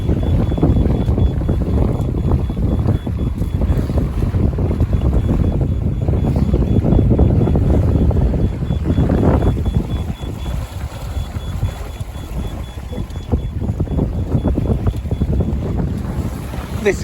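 Steady wind roars across a 20-foot trailer sailer at sea in the North Sea, with loud continuous buffeting on the microphone and water rushing along the hull throughout, with no talking.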